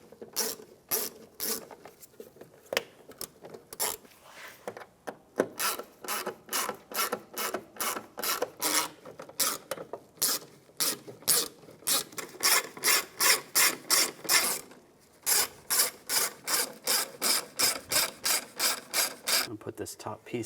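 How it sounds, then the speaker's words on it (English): A hand ratchet clicks in rapid bursts while driving screws into a tail light on a 2015-2020 Cadillac Escalade, close and crisp, with the strokes repeating steadily and pausing briefly between runs. "Now put the screws in."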